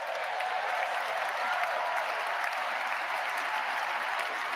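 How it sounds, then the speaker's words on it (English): Sustained arena crowd applause at an inauguration event in Capital One Arena, a broad, even wash of many hands clapping from a distance, steady and unbroken throughout. "Big applause for that one."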